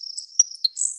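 A grasshopper sparrow gives a very high, thin, insect-like buzzing song with a couple of short sharp ticks, close and clear against silence.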